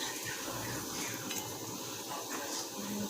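Faint, sparse clinks and scrapes of metal utensils against a pot and container as freshly made ghee is ladled out in a home kitchen, quiet and close with light rustling between taps.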